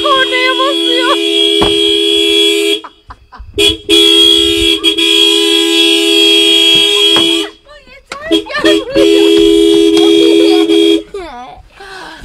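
A car horn blares in long, sustained blasts, broken by short pauses where excited voices, including a child's, can be heard talking.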